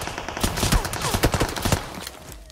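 Rapid gunfire from the mobile battle royale game BGMI, a dense cluster of sharp overlapping shots over about two seconds, loud and close, with no voices.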